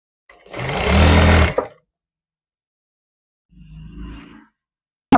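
Sewing machine stitching a shirt shoulder seam: one sustained mechanical whir of about a second and a half, silence, then a shorter, quieter run, ending with a brief click.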